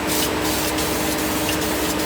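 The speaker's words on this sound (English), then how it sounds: "Got kind of a weird spray pattern out of this nozzle." A spray-paint nozzle coats a GM car trunk with splatter paint, giving a steady, loud, close hiss that runs unbroken and at an even level.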